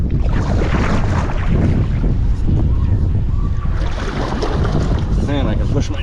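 Wind gusting across open water during stand-up paddleboarding, a loud, steady rumble of microphone-buffeting wind with splashing water, a voice speaking briefly over it.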